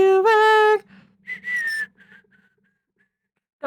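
Someone whistles a melody: a bright, clear tune of sustained and gliding notes, loud for the first second, then shorter phrases that fade into near silence before a brief sound returns at the end.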